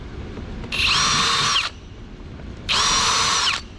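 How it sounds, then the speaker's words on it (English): A power drill bores out holes while a fender flare is fitted to a Polaris RZR S, giving two distinct bursts of high whine, each about a second long and separated by a short pause, close and clear. "So we're going to just drill them out."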